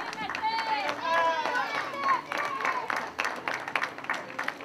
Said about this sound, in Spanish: Un fort aplaudiment per ella.